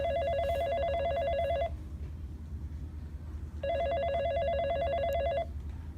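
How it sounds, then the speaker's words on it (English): A telephone ringing in a high school office: two electronic trilling rings, each nearly two seconds long with a pause between, clear and close over a low background hum, no talking. "Answer the phone, Pam."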